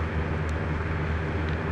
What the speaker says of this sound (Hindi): कान फाड़ रही है इंजन की आवाज